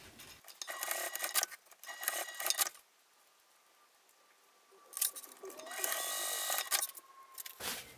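A sewing machine stitches a fabric wristlet pouch in two runs, each a steady mechanical whir of a few seconds separated by a pause, close and fairly quiet, with light handling clatter around it.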